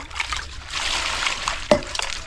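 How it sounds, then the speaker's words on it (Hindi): Potatoes and onion greens being rinsed in a basin of clean water in a home kitchen, a steady soft trickle and slosh of water with light handling splashes and one sharper splash near the end. "अब इनको साफ पानी से कई बार धो लेते हैं"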